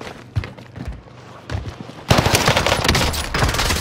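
Warzone gunfire from a Welgun submachine gun: a few scattered single shots, then a loud sustained burst of rapid automatic fire close up.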